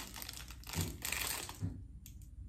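Parcel packaging being crinkled and handled during an unboxing, with bursts of crisp crumpling and rustling close by, then a quieter stretch near the end, with no speech.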